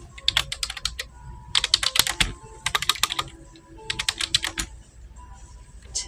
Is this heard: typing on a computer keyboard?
yes